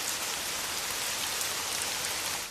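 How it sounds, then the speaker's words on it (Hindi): A brief, unseasonal passing rain falls in a steady, dense hiss of drops on surfaces, continuous and moderately loud, tapering slightly at the end, with no voices. "ये बिना मौसम की गुजरती हुई बारिश हमें क्या संकेत देती है?"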